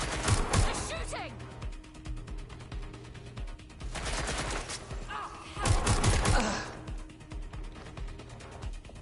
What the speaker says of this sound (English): Getting to cover! They're shooting!